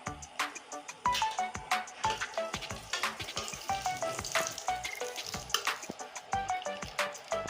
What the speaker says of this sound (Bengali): ফোড়নটা আমি লাল করে ভেজে নেব